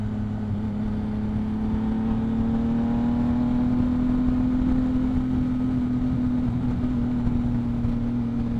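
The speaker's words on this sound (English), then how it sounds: "Exhaust is pretty loud. It has a Two Brothers exhaust." Yamaha MT-09 motorcycle fitted with a loud Two Brothers aftermarket exhaust, running as a steady low engine drone with a sustained tone that rises slightly and holds, continuous and close throughout.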